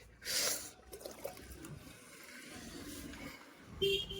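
Water poured from a container over potted plants at home, a splashing gush rising and falling in short bursts, close and fairly loud, with no talk.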